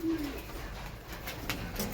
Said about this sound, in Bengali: এগুলো সব উড়ানোর নর কবুতর